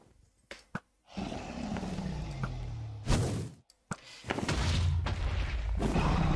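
Ender Dragon fireball blasts in Minecraft hardcore survival, booming roars and heavy thuds bursting in repeatedly, loud and close, with brief gaps of near silence between.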